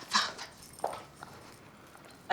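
A dog gives a few short whimpering yips, close by and spaced out, with quiet room sound between them.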